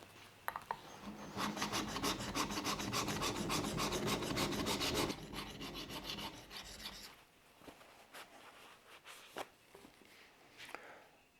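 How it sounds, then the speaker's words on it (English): A steel chisel fresh off the grinder and belt sander is rubbed back and forth on a flat sharpening stone, a steady close rasping scrape for about five seconds, then lighter, intermittent strokes and scuffs trailing off. "Now I'm going to rub it on this flat stone real quick."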